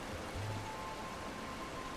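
A waterfall in the game Horizon Forbidden West gives a steady, soft rushing of falling water, even and unbroken throughout, heard alone without speech.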